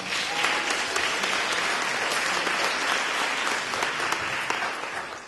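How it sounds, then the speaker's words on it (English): Applause from a theatre audience of supporters at a comedy stage production, a steady dense wash of many hands clapping together, loud and sustained throughout with no talk over it. "Yeah, you can clap."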